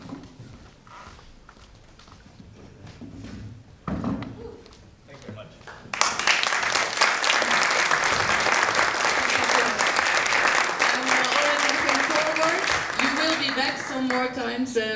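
Audience applause at a European culture forum bursts in after a few seconds of quieter voices, a full, steady crowd clapping that continues loud to the end, with speech faintly underneath.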